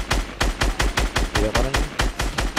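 SMG gunfire in the video game Fortnite Battle Royale, a loud, steady full-auto stream of about a dozen evenly spaced shots, with a brief voice cutting in midway.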